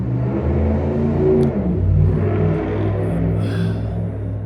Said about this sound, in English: I don't really like the sound of the bike